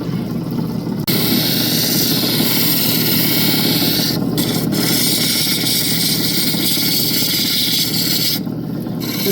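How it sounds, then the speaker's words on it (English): A polishing wheel runs with a loud, steady broadband whir and hiss while an opal is polished against it, the tone shifting briefly as the stone is pressed on and lifted off. "polishing wheel for that one too."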